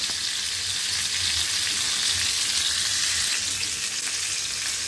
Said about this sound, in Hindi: दोनों तरफ से हम चिकन को थोड़ा पकाएंगे ताकि मसाला सारा अंदर से और अच्छे से चला जाए।